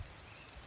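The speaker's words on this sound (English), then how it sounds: "It rained last night and it hasn't stopped all day." Torrential rain falls steadily on a flooded garden flower bed, a brief, even hiss of drops with no voices.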